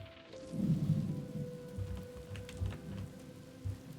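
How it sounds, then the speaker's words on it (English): Rain falls in The Pedestrian, a steady soft wash with low rumbling swells, like a distant thunderstorm, and a faint tone humming beneath it. "Oh, it's raining."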